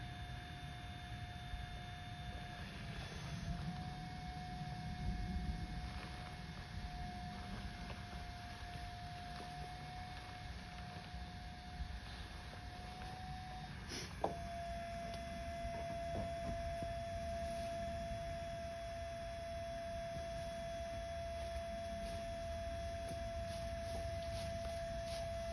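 An electric pump inflates a pillow with a constant steady hum and whine that runs unbroken throughout, a brief click near the middle, and no voices over it.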